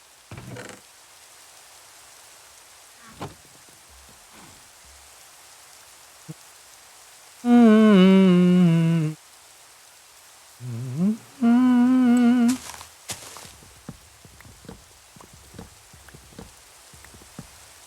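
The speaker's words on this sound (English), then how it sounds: "I think the rain's pretty beautiful too." Steady rain pours in the Minecraft video game, a constant hiss filling the whole stretch, with a few brief tonal sounds and soft knocks rising above it partway through.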